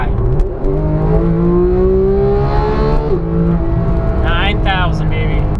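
Porsche GT3 engine revs up hard toward 9,000 rpm, its loud, rising high-pitched wail climbing steadily and then dropping back, with a person speaking briefly over the engine near the end.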